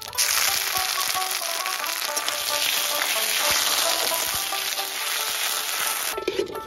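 Ground ginger and green chili paste sizzles loudly and steadily in a hot pan of oil while tempering for khichuri, a dense continuous frying crackle with no talking.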